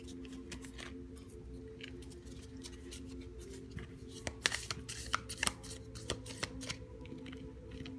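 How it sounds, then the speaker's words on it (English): A tarot deck being shuffled gives soft, rapid papery riffles and flicks of cards, close and quiet over a low steady hum, growing busier partway through. "I'm gonna pull some cards from the Everyday Tarot"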